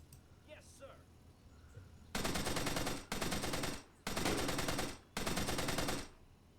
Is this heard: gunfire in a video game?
yes